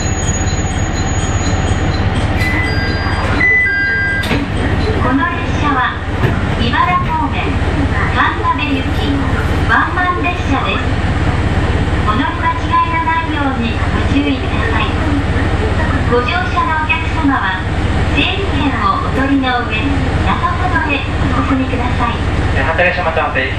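Steady rumble of an Ibara Railway train heard from onboard, with continuous wheel and track noise and occasional squeals, while a voice announcement plays over the ride.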